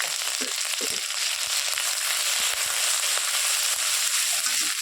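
Ginger frying in hot oil in a pan, giving a dense, continuous sizzle with faint crackles and occasional light pops, steady and close, no voices.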